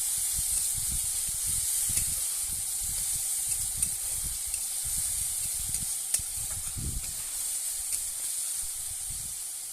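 Onion paste and slit green chilies frying in a pan of oil for a rohu fish and bottle gourd curry, giving a steady, close sizzling hiss throughout with faint low knocks and crackles underneath.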